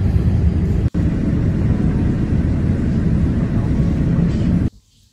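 Airplane flying near an airport, a loud steady broadband roar that holds evenly, drops out for an instant near the start and cuts off abruptly before the end.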